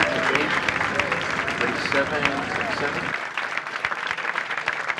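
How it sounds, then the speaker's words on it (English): An audience at a rock'n'roll show honoring Les Paul on his 95th birthday claps in a dense, steady burst under a speaking voice, fading to scattered claps after a few seconds. "let's give him a round of applause"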